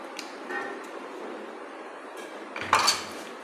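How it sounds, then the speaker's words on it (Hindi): Sago pearls and mango pieces being mixed in a bowl for a sweet drink: soft clinks of a utensil against the dish, with a louder scrape and knock near the end, close and fairly quiet. "और इसे करेंगे हम मिक्स"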